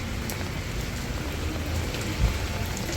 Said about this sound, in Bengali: প্রচুর বৃষ্টি হয়েছে।